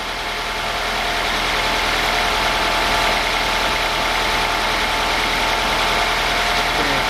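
A cold car engine idles in a loud, steady, even rumble close by, with no talk.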